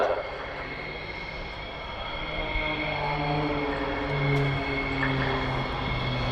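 A turboprop display aircraft flying at the RIAT airshow sends a steady, droning engine hum that swells and shifts in pitch as it passes at a distance, with an announcer's commentary over it.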